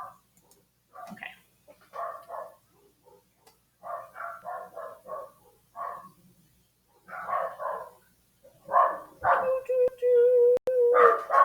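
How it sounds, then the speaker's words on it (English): Dogs bark outdoors after dark in repeated short bursts and clusters, fairly close, and a brief whining tone comes near the end. "They just bark to hear themselves bark."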